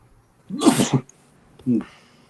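A person sneezes once, sharp and close, followed by a shorter throat-clearing or second small burst, heard on a voice chat during a tabletop role-playing session.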